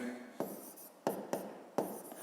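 A pen or pencil writes numbers on paper at close range, a few distinct scratchy strokes and taps separated by short pauses, quiet and clear.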